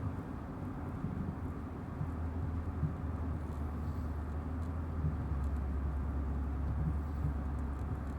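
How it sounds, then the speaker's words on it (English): A low, constant hum of road traffic, cars passing continuously in the distance with a deep rumbling drone and no talking. "So we'll just sit here and just listen to the hum of the cars."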